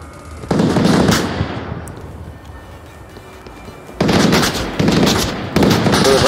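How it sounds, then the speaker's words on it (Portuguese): Bursts of rapid automatic gunfire in the virtual-reality shooter Onward, loud and close, arriving in several clustered volleys with a quieter gap in between; no speech over it. "Tô levando tiro."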